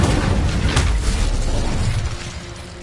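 An Incendio fire spell cast in Hogwarts Legacy makes a loud, crackling burst of fiery whoosh that holds for about two seconds and then tapers off.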